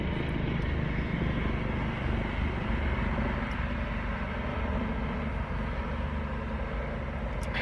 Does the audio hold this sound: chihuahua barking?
no